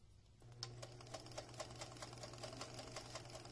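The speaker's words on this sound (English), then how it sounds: "you're just going to sew all the way around with no starting or stopping or gaps" A sewing machine stitches fabric around the edge of a flute instrument mask, a quiet steady rapid clatter of the needle running without pause after a brief start.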